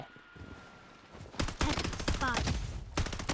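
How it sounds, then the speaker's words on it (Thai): Burst gunfire from a weapon in the video game Blood Strike starts after a quiet lead-in and turns into a loud, rapid stream of close shots. A short pause comes near the end before a final burst. "อันนี้คือการยิงเป็นชุดนะครับ"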